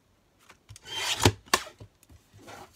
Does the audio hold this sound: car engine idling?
no